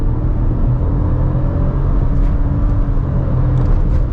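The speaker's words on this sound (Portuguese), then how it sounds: "o barulho desse motor invade aqui a cabine" Engine of a 2024 Citroën C3 Aircross under hard acceleration, heard from inside the cabin as a loud, steady low rumble and whir that fills the whole clip.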